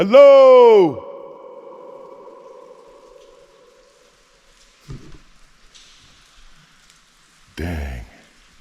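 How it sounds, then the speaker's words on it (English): A loud shouted greeting rings out inside a large cave and echoes away, leaving a long reverberant tail of several seconds that fades slowly, followed later by faint shuffling and a short burst of speech. "Damn, you hear that? a good 10-second echo."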